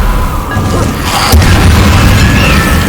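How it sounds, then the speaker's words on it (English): A Confringo fire spell from Hogwarts Legacy goes off as a loud, full booming blast with a sharp burst near the middle, set against a steady rumbling game backdrop. "Confringo! Potato! Stupefy!"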